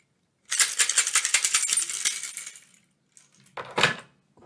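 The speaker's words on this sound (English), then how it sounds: "Let's start with the keys." Metal keys jangle and rattle in a bright burst lasting about two seconds, followed after a pause by a shorter second shake.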